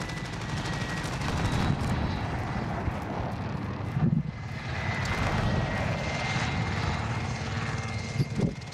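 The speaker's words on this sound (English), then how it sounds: "why are there two choppers on them?" Helicopters flying in Call of Duty Warzone, a steady dense rotor and engine drone throughout, with occasional gunfire bursts cutting through and no talking.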